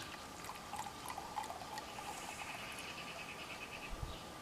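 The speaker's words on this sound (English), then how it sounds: "let's do the pouring" Red wine pours into a glass as a faint, steady trickle and gurgle of liquid, quiet and close, with soft background hiss and no talking.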